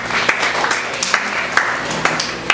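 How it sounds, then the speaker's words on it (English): A church congregation claps in praise, a steady rhythmic clapping with regular sharp accents about every half second, moderately loud and fairly close. "Let's give him a clap of praise."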